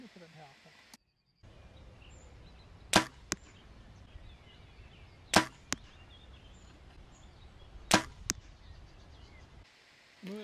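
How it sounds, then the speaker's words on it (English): Three arrows are shot from a bow at a target 25 meters away. Each gives a sharp, loud double crack, and the shots come a couple of seconds apart over a steady outdoor background hiss. "I now shot 3 arrows on target at 25 meters."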